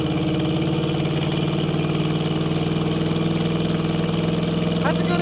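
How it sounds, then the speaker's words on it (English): A lifted 1979 Chevrolet Blazer 4x4 with a 350 V8 idles with a deep, rumbling exhaust note, steady and close throughout. "Has a good exhaust note to it."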